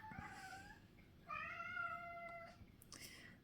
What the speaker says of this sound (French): Vous entendez comme ce petit chat maltraité?